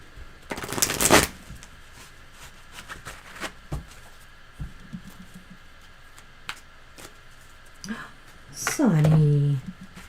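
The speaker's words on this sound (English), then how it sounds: "Shuffle, Mr. Owen, relax." Tarot cards are shuffled in a quick, close riffle near the start, followed by scattered soft clicks and handling noises, with a voice briefly heard near the end.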